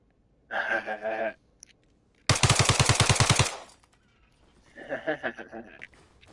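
Full-auto rifle fire in Arma Reforger on PS5, one loud rapid burst of about a dozen shots lasting roughly a second, with short stretches of talk before and after it.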